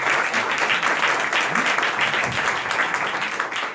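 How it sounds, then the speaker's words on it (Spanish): An audience at a political debate forum breaks into sustained applause after a panelist is introduced, a dense, steady wash of clapping that holds at even loudness throughout. "Un aplauso."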